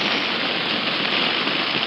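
Rain falls on a Dhaka city street, making a steady, dense hiss of water that is even and unbroken from start to finish.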